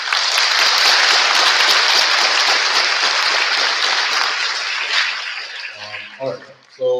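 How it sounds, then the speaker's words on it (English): Loud, dense audience applause at a community program fills most of the stretch, then fades and gives way to a speaking voice near the end. "Let's give another round of applause for them,"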